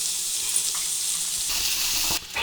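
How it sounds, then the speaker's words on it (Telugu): Green chillies and onion pieces fry in hot oil in a village kitchen, giving a steady, close crackling sizzle throughout with faint stirring scrapes and a brief dip near the end. "తాలింపు పచ్చిమిరపకాయలు ఉల్లిపాయ ముక్కలు వేసి వేయించుకోవాలి"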